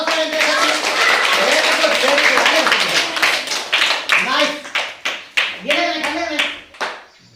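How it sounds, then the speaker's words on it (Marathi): Hands clapping in quick bursts during a children's biscuit-eating game, bright sharp claps close by with children's and adults' voices talking alongside. "छान टाळ्या"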